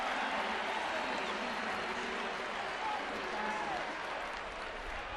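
A baseball stadium crowd applauds in a steady, dense wash of clapping through the whole stretch, with faint voices mixed in.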